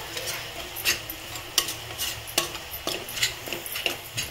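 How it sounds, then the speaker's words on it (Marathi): Pav bhaji masala, Kashmiri red chilli powder and ginger-garlic paste roasting in a pan, with a steady sizzle broken by repeated sharp scrapes and clinks of a spoon stirring against the metal, close and clear. "आता हे 2 मिनिटं आपण चांगले मसाले भाजून घेऊ."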